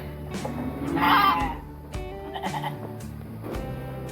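Several sheep bleat in turn at a sheep shed at dusk, loud and close, one long wavering cry followed by shorter calls, with no talking.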